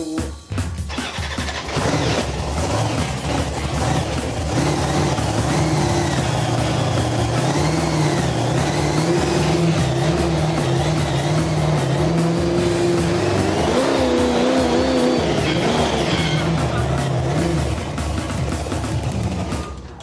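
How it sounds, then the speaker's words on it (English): Engine of a 5-ton monster truck revving and roaring as it drives over giant obstacles, a loud sustained growl that rises and falls in pitch over twenty seconds, close and dominant. "I think I'm ready to drive this 5-ton vehicle over some giant obstacles"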